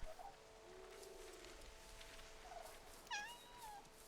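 A cat meows in the video game Infinity Nikki, a short bright mewing cry near the end after a stretch of soft game ambience, clear and alone with no talk over it.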